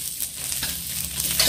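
Fried rice with cabbage and garlic is stir-fried in an ordinary wok, giving a steady, close sizzle with stirring and scraping that carries on throughout without any talk.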